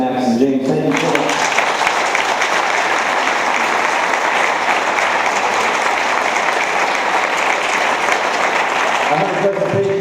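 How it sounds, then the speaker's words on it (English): Sustained applause from a sizable audience at a candidates debate, loud and steady for several seconds, fading at the start and end into a voice speaking. "a special round of applause to the man who organized this event, James Maxson."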